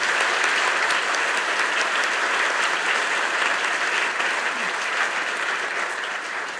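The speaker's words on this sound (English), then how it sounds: "please join me once again in offering a round of applause" Sustained, loud applause from a symposium audience for a panel on women, peace and security in future warfighting, a thick wash of many hands clapping that tapers slightly toward the end.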